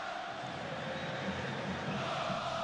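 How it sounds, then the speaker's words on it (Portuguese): Bahia supporters singing together in a packed stadium during a Brazilian Série B match against Botafogo, a steady distant wash of massed voices that holds evenly throughout without breaks. "Torcida tricolor canta em volume máximo aqui."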